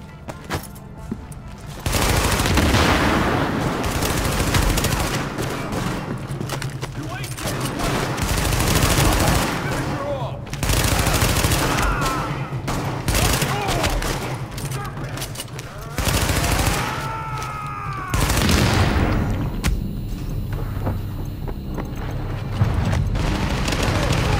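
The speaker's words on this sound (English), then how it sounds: "Party's taking heavy fire from the roof." Heavy gunfire from the Tom Clancy's The Division video game: loud, sustained automatic bursts and rattling volleys with booming impacts, nearly continuous throughout and dense in the foreground.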